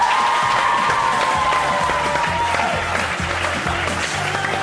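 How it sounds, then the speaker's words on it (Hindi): A studio audience on a morning television show breaks into loud, sustained applause mixed with cheering and crowd noise, a continuous dense roar of clapping that stays steady throughout. "तालियां बजा सकता है"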